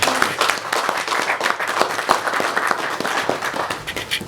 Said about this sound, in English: And may we have another applause for Mr.